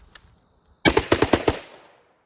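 Six rapid gunshots ring out close and loud in quick succession during an instinctive shooting drill at targets, with a brief echoing tail after the last shot.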